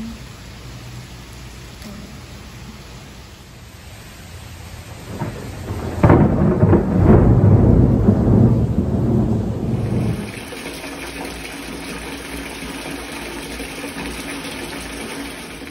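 A deep rumble of thunder swells and rolls for several seconds over a steady hiss of falling rain in West Palm Beach, then fades back to the rain alone.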